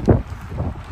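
Wind gusts against the microphone at an outdoor concrete pour site in nasty weather, a short low rumbling buffet that swells and fades within a second, with no talk.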